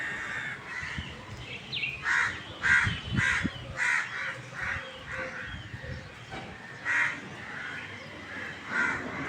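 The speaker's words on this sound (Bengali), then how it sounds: "খালি পাখিগুলো ডাকছে" Crows caw outdoors on a cold, foggy day, giving about a dozen harsh calls in short bursts with uneven pauses between them. The calls are fairly close against a quiet background.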